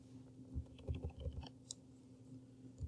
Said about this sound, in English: My keyboard is typing things in backwards.